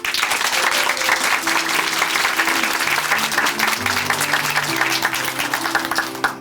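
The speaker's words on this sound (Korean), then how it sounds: "다시 한번 성승배 형제님께 큰 박수 보내드릴게요" A church congregation applauds steadily at Chuncheon Hanmaum Church, dense sustained clapping with a held musical chord underneath, loud and continuous throughout.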